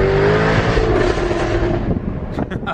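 A convertible car pulls away with a loud, steady engine roar and rushing wind, staying close and dominant before easing off near the end.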